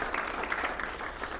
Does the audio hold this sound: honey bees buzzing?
no